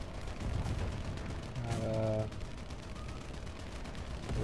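A tank's cannon fires in the War Thunder video game. A single loud boom with a ringing metallic tail lands in the middle, over constant rumbling battle noise, with no speech.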